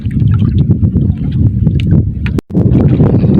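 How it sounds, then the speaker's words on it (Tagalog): Steady wind gusting over a small fishing boat out at sea at dusk, a continuous low rumble with faint water sounds and a brief dropout midway. "Ayan, medyo humahangin na."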